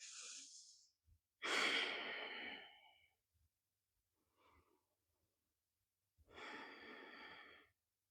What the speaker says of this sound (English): We're going to take 3 more deep breaths here.